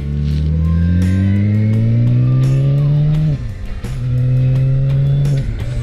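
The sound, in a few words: motorcycle engine revving, sounds like a vacuum cleaner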